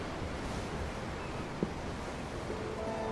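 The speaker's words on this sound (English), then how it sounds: "I'm looking at the ocean. The ocean? Yeah. The waves." Ocean waves rolling onto shore in the video game Tales of Arise, a steady broadband wash of surf with wind, continuous and fairly loud, with one brief tap midway and faint tonal music creeping in toward the end.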